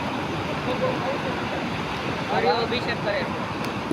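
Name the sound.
rough sea waves and wind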